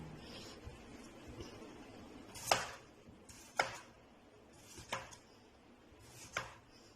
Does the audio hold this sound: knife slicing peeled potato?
yes